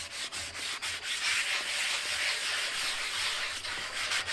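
Close, steady scratchy rasp of sanding leftover paint and rust off a steel drum for a DIY drum smoker, a continuous rubbing hiss with rhythmic strokes and brief dips.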